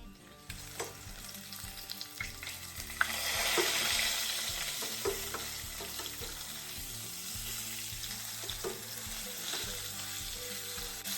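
Pheasant legs go into hot fat in a pan, giving an immediate surge into a loud, continuous close sizzle that holds steady, with occasional clicks and taps from handling.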